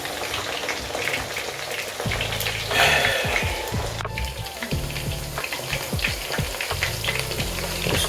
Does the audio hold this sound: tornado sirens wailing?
no